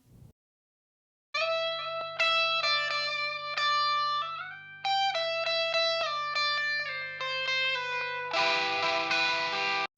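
Electric guitar notes ring out in phrases with echoing repeats trailing behind each one, ending in a dense, sustained strummed chord.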